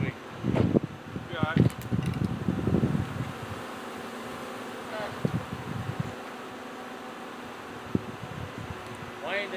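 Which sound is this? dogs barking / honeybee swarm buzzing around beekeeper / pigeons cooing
honeybee swarm buzzing around beekeeper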